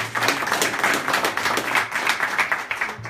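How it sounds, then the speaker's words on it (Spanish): An audience claps at a charro tournament announcement, a moderately distant burst of rhythmic applause lasting a few seconds, with faint voices in the background. "el señor José Guadalupe García Negrete, al cual les pido un fuerte aplauso, por favor."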